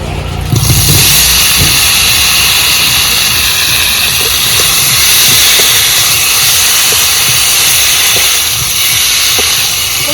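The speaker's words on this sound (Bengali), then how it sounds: "মাছ ভাজা তেলে সেদ্ধ করে রাখা আলু ভেজে নেব" Boiled potatoes fry in oil already used for fish, and the loud, bright sizzle starts abruptly and then hisses steadily and close up throughout, with no voices.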